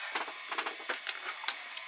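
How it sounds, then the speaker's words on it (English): A 3D printer winding down at the end of a print, giving faint irregular clicks and short whirring bursts against a quiet background, with no talking. "my 3D printer is winding down"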